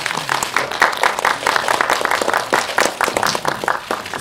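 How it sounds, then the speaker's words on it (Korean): Audience applause at a Korean film press screening, a steady wash of many hands clapping continuously at moderate loudness with no speech over it. "여러분 박수 한번 부탁드립니다"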